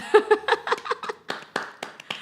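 A small group claps briefly in a round of applause for a rapper during a podcast conversation: quick, close, irregular claps with a little laughter mixed in.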